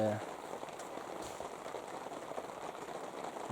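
Rain falls outdoors during preparations for an elk hunt, giving a steady, even hiss that holds for the whole stretch at a moderate level.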